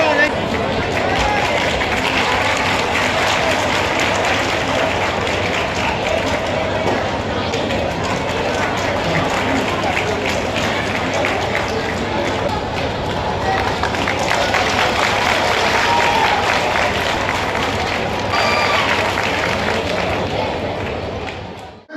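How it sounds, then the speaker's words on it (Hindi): An audience claps continuously at a civic ceremony in Chhindwara honouring a national hockey player, a dense steady patter of applause with crowd murmur lasting about twenty seconds before cutting off. "जोरदार तालियां।"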